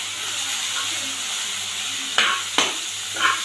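Onion and teasle gourd with potato fry in a pan, a loud, close, steady sizzle with a few sharp scraping strokes of stirring near the end.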